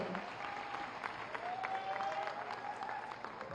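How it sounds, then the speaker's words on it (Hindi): Steady applause from a village crowd at a government outreach event in Akbelpur, Azamgarh, even and moderately loud throughout. "जोरदार तालियों के साथ उनका अभिनंदन करें।"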